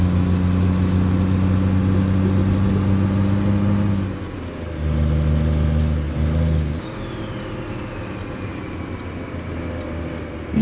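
A heavy truck engine in American Truck Simulator drones loudly and evenly, its pitch shifting as it accelerates and eases off, with a faint high whine sweeping above.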